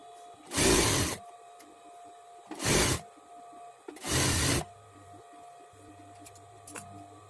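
A sewing machine basts a katori blouse, running in three short bursts of whirring stitching, close by, with quiet gaps between them.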